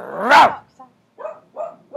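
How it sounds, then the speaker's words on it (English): A dog gives one loud, close bark, followed by a few softer, shorter barks or yips with brief silences between them. "If you start barking, I just like get scared."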